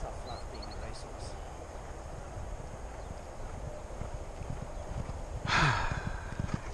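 Racehorse hooves clip-clop at a walk, with faint, muffled steps under a steady outdoor background and a brief sharper burst near the end.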